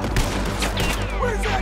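Gunfire in the Red Dead Redemption 2 video game, a dense burst of overlapping shots and cracks over a continuous loud game soundscape, with no voice.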